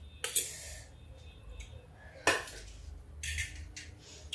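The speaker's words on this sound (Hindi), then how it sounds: "अब इसको फिर से हम फेंटते हैं।" An eggless gram flour (besan) omelette batter with tomato, ginger and green chili is beaten in a bowl, producing intermittent close metallic clinks and scrapes with quiet pauses between strokes.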